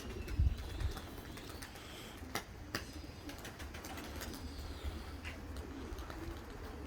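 Pigeons coo softly against a noisy outdoor background, with a few sharp flaps and rustles of wings breaking through near the start.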